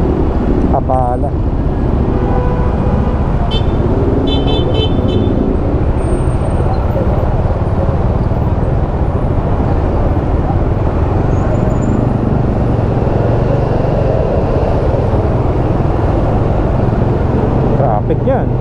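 Heavy road traffic backed up after a truck snagged a jeep in a collision: a loud, continuous roadway rumble with a few brief horn-like tones early on and voices in the background.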